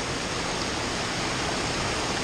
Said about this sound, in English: a little bit of a waterfall there.